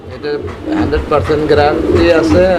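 A pair of Barless Beauty Blue fancy pigeons, a cock in breeding mood and an egg-laying hen, coo in soft throaty runs beneath continuous close talking.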